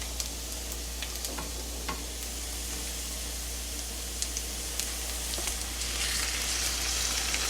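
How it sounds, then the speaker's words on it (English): Mahi mahi fillets sizzle in a hot pan with garlic, giving a loud, steady frying hiss that carries on throughout with small pops and swells slightly near the end. "We're gonna add the fish."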